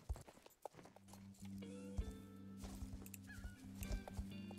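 Horse hooves clip-clop in the Star Stable video game, steady rhythmic steps over a sustained tonal music bed, with a brief whinny-like layer and no talk.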